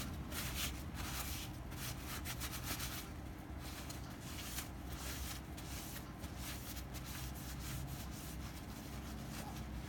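Paper towel with a drop of oil rubbed over a custom wooden knife scale for a Böker Nano knife, a continuous soft scrubbing hiss with quick back-and-forth strokes, close and steady, no voices.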